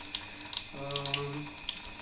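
Tap water runs in a steady, rushing stream through a Philips tap water filter, close and continuous, with a brief tonal hum rising partway through.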